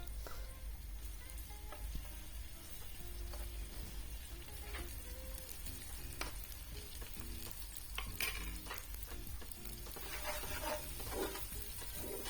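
Steady sizzling of food frying in a pan, with garlic and ginger paste added, and a spoon scraping and stirring through it, continuous and close, no talking.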